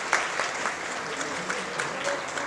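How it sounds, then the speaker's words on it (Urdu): Steady audience applause fills a hall at a lawyers' convention in Quetta, a dense, continuous wash of many hands clapping at moderate distance with no pauses. "ذرا پلیز تالیاں بجائیں"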